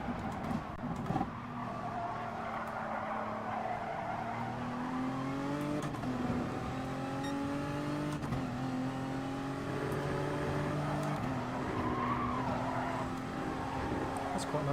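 An Audi race car in GT Sport revs hard through the gears, its engine pitch climbing and falling while tires squeal and skid, loud and close throughout.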